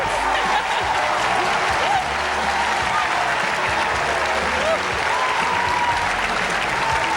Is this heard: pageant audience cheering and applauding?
yes